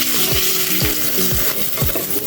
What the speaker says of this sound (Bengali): আমার এই যে ইলিশ মাছ ভাজা হয়ে গেছে